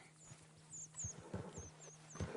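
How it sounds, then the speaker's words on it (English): Horses in the video game Red Dead Redemption 2 clip-clop at a steady walk with a brief whinny, fairly quiet and close, over soft outdoor ambience with chirping birds. "Damn horses!"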